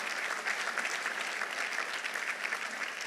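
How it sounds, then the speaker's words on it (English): Steady audience applause fills a commencement ceremony, a dense, even clapping from a large crowd that holds at moderate loudness without pause. "Give me a round of applause for America."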